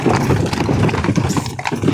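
Close, busy hoofbeats of a horse clopping over rough ground on a rural farmstead, mixed with heavy rumbling noise.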